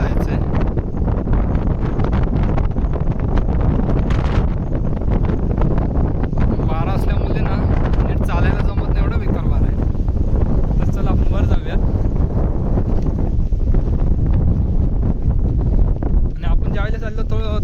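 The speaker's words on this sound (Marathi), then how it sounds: "इथे खाली इतका वारा आहे ना" Strong monsoon wind in the Konkan countryside above flooded farmland roars steadily into the microphone for the whole stretch, loud and buffeting, with a voice talking faintly underneath.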